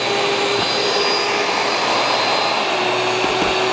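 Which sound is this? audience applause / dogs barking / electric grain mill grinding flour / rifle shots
electric grain mill grinding flour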